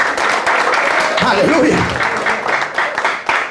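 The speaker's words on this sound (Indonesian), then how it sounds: "Tepuk tangan pun tanggung-tanggung Kak." Church congregation clapping in a broad, steady wash throughout, with a preacher's voice and other speech audible over the applause.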